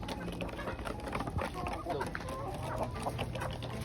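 Breeder chickens clucking on a farm, several birds close by with overlapping clucks and short calls over a busy low background, and someone talking among them.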